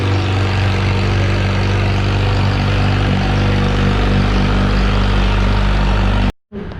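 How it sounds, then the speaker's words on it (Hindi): A Kawasaki H2 motorcycle idles just after starting, its loud exhaust giving a steady, deep, close rumble with strong low harmonics that runs unbroken before cutting out abruptly near the end. "बाइक स्टार्ट हो गई है, दैट्स अ लाउड एग्जॉस्ट"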